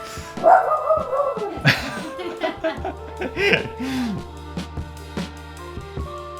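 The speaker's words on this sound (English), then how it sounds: "She's got a very punchy bark." A dog gives a few punchy barks amid some laughter and indistinct voices, close by, with scattered knocks and taps around them.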